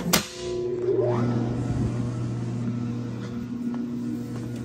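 A three-phase converter for a milling machine is switched on, with a sharp click, then a rising whine as it spins up and settles into a steady, close electrical hum.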